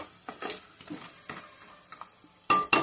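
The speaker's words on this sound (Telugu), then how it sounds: "చక్కగా ఎండు ముక్కలు నూనెలో వేగిపోయాయి." Dried meat pieces frying in oil in a pan, a faint sizzle broken by scattered scraping stir strokes and a couple of sharper metallic clinks near the end, with no voices.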